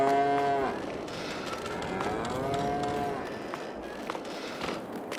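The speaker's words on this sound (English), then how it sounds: "First we'll check on the cows." Cattle in a large barn on a Farming Simulator 22 farm give several drawn-out moos, one right at the start and another midway, over steady ambient barn noise and light shuffling.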